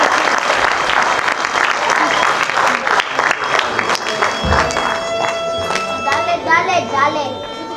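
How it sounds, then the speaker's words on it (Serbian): Audience applause welcoming a folk dancer onto the stage at a folk ensemble performance in Doljevac, a sustained loud clapping crowd throughout with some voices and a tonal music line rising near the end. "a mi da ga pozdravimo jednim aplauzom"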